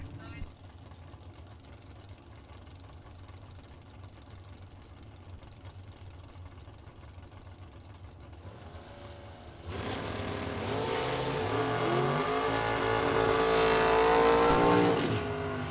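Two Camaros launching side by side in a drag race at a bracket nationals event, a loud roar of engines swelling and building from about ten seconds on, over steady crowd and track ambience with an announcer talking throughout.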